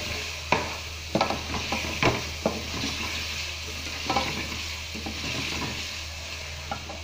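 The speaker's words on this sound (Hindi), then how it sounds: "पटाटा असांजा भुॼनि पिया" Potatoes fry in a pan with ginger, garlic and spices for Sindhi palak patata, a soft steady sizzle close by, broken by repeated scraping and stirring clatters of a spoon against the pot.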